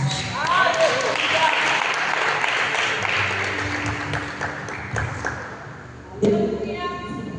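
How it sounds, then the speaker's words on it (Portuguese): A church congregation applauds a woman after her prayer message, a steady wash of many people clapping that fades out, followed by a few louder thumps and a voice speaking. "essas palmas foi para ela, irmãos"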